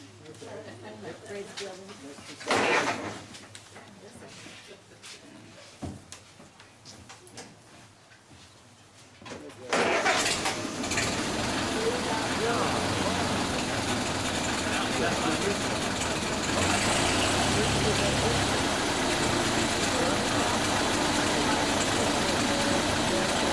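A truck engine rumbles to life partway through and settles into a steady, loud idle, with someone talking over it.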